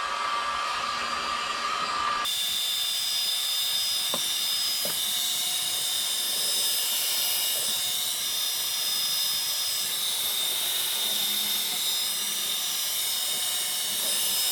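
A heat gun blasts hot air onto a BMW E39 headlight lens to soften it. The steady, loud roaring hiss starts abruptly after a moment of quieter background and continues without a break.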